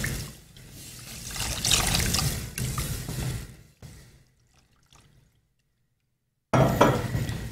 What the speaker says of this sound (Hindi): पहले मैदा शामिल करना है फिर आपने इसमें 1 कप पानी शामिल करना है